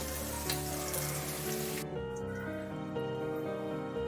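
Onion, green chili, coriander and mint sautéing in a pan, giving a steady close hiss that drops suddenly to a quieter sizzle partway through.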